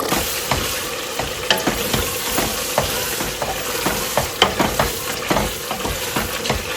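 Food being stir-fried in a pan, a loud close sizzle broken by frequent rhythmic scraping and clattering strokes of a spatula against the pan, with no talking.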